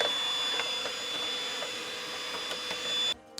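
A vacuum cleaner sucking dust from a game console such as a PS5, Xbox Series S or X, or PS4, a steady loud whining roar with small clicks that cuts off abruptly near the end.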